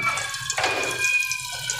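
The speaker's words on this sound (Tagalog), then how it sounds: "So, ang gagawin natin, lagay lang tayo ng tubig." Water pours from a tap into a pan for cooking longanisa, a brief splashing gush between quieter drips, heard close up and alone.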